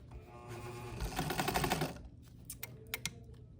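A sewing machine straight-stitches fabric with a fast, close mechanical whir for about two seconds, then stops, followed by a few soft clicks and handling sounds.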